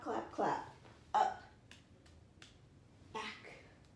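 Sharp hand claps in a mat exercise class using a magic circle, a few spaced single claps over quiet room tone, with a voice talking quietly between them.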